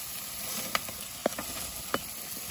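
Meat sizzles on a cabin BBQ grill in a steady, close hiss with a few sharp pops and crackles spaced through it, and no voices.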